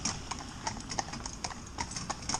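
Rhythmic clip-clop of trotting hooves, steady and even, several driving horses in harness moving together at a brisk pace, close by.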